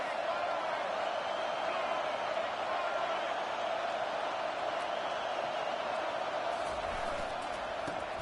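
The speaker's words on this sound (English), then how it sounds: "This crowd bringing the energy and noise early." A steady, dense roar of a large football stadium crowd fills the whole stretch, loud and continuous with no breaks, like a packed stadium humming with energy.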